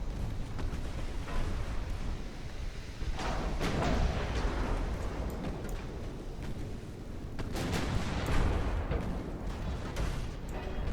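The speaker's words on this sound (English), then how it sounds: "And there goes the main guns again" Heavy gunfire from a modern battleship's main guns in the naval strategy game Ultimate Admiral: Dreadnoughts, a continuous rumbling barrage of deep booms with repeated louder blasts near the middle and end, with no voices.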